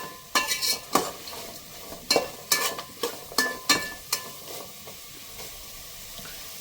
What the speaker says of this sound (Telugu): ఒక స్పూను వేసుకొని మంచిగా ఫ్రై చేసుకోవాలి, అంత కలిసేటట్టు, ముక్కలకు పట్టేటట్టు.